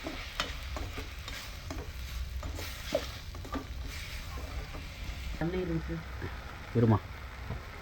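Masala sizzles and fries in a pan with a little salt added as it sautés, with steady crackling, frequent scraping stirs, and a person speaking in Tamil over the cooking.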